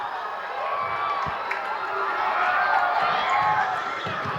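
A high school basketball crowd in a gym, SKHS Wolves against North Kitsap Vikings, cheers and shouts in a sustained swell over squeaking shoes, with talk mixed in.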